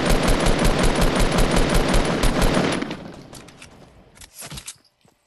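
Rapid burst of loud gunfire in the Fortnite video game, a close, dense stream of shots for about three seconds, then thinning to scattered impacts and one last short volley.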